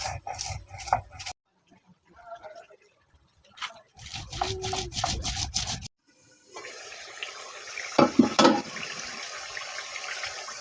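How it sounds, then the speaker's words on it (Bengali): Water is splashed into a pan of duck meat being browned, giving bursts of sizzling and trickling with short gaps between, then a longer steady hiss with a few sharper clinks near the end, close by and moderately loud. "এই যে প্রথমে পানি দিচ্ছি"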